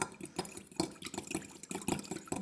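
Liquid oils are poured and stirred together as wet ingredients for bath truffles, with close, soft splashes, drips and light clinks of a container in an uneven rhythm and no talking.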